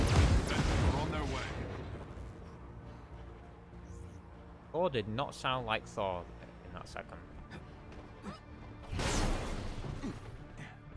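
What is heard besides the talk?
loud explosions in a video game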